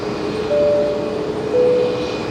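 A fixed-wing airliner at Brisbane Airport gives a steady, distant engine roar with a faint drone beneath, swelling slightly twice across a couple of seconds, heard alone without voices.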